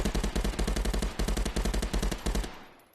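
Rapid bursts of simulated gunfire from a VR shooting game played with a haptic gunstock, a steady automatic stream of close, loud shots that stops abruptly near the end and fades out.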